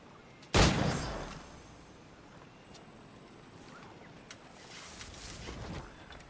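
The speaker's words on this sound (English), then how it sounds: "I love that no one is alerted by the sound of literal gunfire." Gunfire in the pirate video game Assassin's Creed IV Black Flag: one loud, sharp shot near the start, then a quieter second burst near the end over soft wind and sea ambience.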